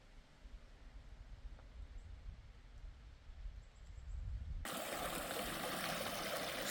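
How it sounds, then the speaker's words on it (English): Water trickles and runs over a forest stream crossing, a soft steady flow. Partway through, a sudden burst of wind noise on the microphone covers it. "come across another stream crossing, and it looks like when the water's lower, this log is fully out of the water"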